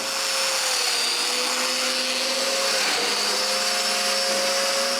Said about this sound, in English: I drill the mortises right away.